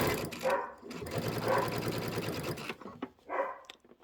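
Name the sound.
sewing machine doing a back stitch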